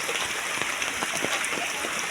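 Steady rain pours on a village lane beside a house, with a dense, even hiss of falling water and faint splashes throughout, close and continuous.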